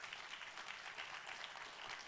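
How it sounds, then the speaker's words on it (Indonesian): Church congregation clapping during a sermon, a steady dense patter of hands held at a faint, distant level throughout with no voices. "tepuk tangan jangan separuh-separuh"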